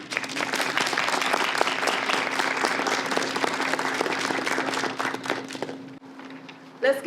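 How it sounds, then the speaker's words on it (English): Audience at a literary competition reception giving sustained applause, a dense steady clatter of many hands for about six seconds before fading out, followed by a brief voice. "Let's give Crystal another warm round of applause for her narrative essay that she wrote"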